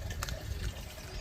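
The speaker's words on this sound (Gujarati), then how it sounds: "આયા અમે આયા મેદાને આવ્યા છે એટલે અમે અહીંયા પાણી ભરવા આવ્યા" Water running from a tap into a container at an open ground, a brief, soft, steady gushing splash heard fairly close.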